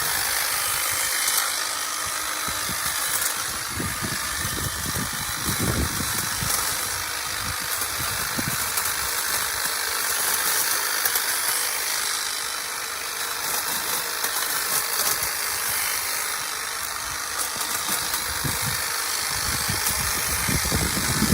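An EGO cordless hedge trimmer cuts through thick branches up to about an inch across, giving a continuous close buzzing drone with irregular crunching snaps as the blades chew through the wood.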